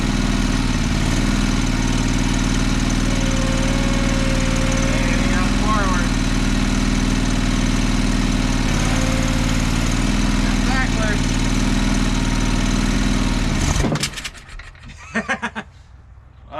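A John Deere 425 lawn tractor's engine idles steadily with a loud, even drone. Brief whines and clunks come through as the deck tries to engage, and then the engine shuts off abruptly near the end, leaving a few faint knocks.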